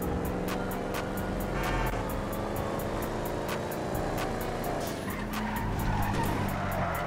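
A car in a GTA street game drives hard and skids, its engine droning steadily while repeated sharp tire squeals cut in at a fast rhythm, loud and close with no talking.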